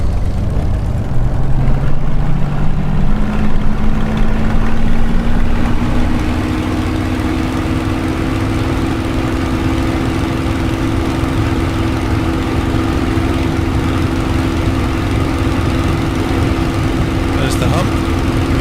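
Spitfire engine in Microsoft Flight Simulator drones loud and steady throughout, its low throbbing tone shifting slightly in pitch as the power is eased back.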